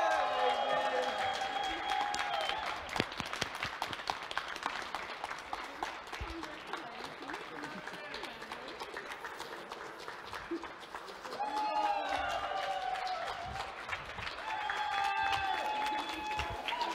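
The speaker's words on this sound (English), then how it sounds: "let's get another big round of applause for our new Bochum regional champion, Milosk" Applause in a tournament hall after a regional championship final, steady clapping from a crowd that eases midway and then swells again, with voices talking over it.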